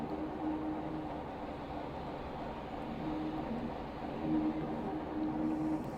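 A Class 45 diesel locomotive in Train Simulator Classic rolls into Manchester Piccadilly platform 13, giving a steady, fairly loud engine drone with tonal hum and a slight swell near the end, no voices.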